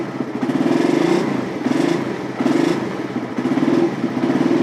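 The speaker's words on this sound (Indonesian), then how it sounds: "Nah, kalau netral seperti ini, motor itu normal." A motorcycle engine fitted with an anti-theft gear-kill switch runs steadily in neutral, a loud close idle with a throbbing, slightly uneven pulse and a faint mechanical clatter, without any voices.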